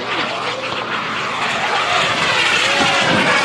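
Electric RC jet aircraft, an ARCA FunFly model with a jet unit of over 30 pounds of thrust, flying with a loud continuous whooshing roar that swells slightly as it passes close overhead.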